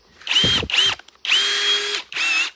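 An Onex cordless drill-driver with a metal chuck whines in four short bursts, spinning up and cutting off with brief gaps, loud and close with no talk.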